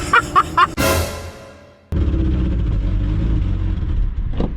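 Car running on a gallon of Red Bull mixed into its gas tank: a low, steady engine rumble while driving, after a loud burst and a short drop-out, with a faint rev near the end.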